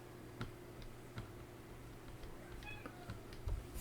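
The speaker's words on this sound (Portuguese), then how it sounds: "Meu gatinho tá miando aqui na porta." A pet cat meows at a door indoors, giving a few faint, brief meows against a quiet room with soft intermittent ticking clicks.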